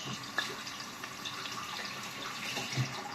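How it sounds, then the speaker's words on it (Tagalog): Tap water runs quietly while a carrot is wet under it in a home kitchen, a soft continuous splash with a couple of faint knocks. "basa natin itong ating carrot"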